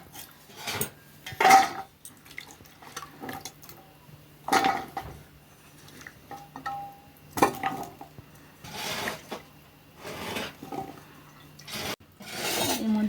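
Chopped raw green mango pieces being washed by hand in a bowl of water, with a series of separate splashy clatters and knocks against the bowl and pauses of near silence between them.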